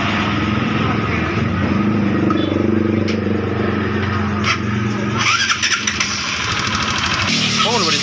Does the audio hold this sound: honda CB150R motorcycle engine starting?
yes